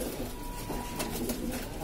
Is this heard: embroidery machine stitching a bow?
no